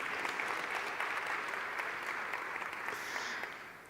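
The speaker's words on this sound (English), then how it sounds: "So another round of applause for Standard Bank." Audience at a women's business conference breaks into applause for a sponsoring bank, a continuous broad clatter of many hands that holds steady and begins to fade near the end.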